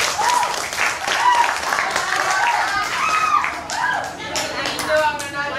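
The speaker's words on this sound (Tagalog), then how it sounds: "pwede ko ba makahiling ng palakpak na sagana?" Audience applause at a Filipino Balagtasan poetic debate, a steady wash of clapping from the crowd lasting several seconds, with voices talking and calling out over it.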